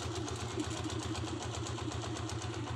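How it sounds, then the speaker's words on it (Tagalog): A motorcycle with its original piston and carburetor idles right after a one-click start, a steady low, even putter close to the microphone with no talk over it. "Yan one click lang po ganda nung andar niya."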